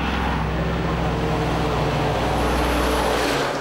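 A former army MAN Cat 1 truck drives with a constant deep rumbling drone and broadband road roar, heavy and unbroken throughout.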